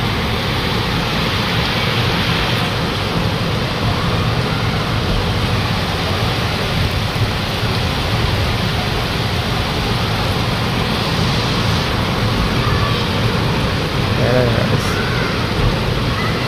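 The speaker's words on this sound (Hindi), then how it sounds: "बहुत तेज़ बारिश हो रही है" Steady, dense hiss of heavy rain pouring down, loud and continuous throughout with no pauses.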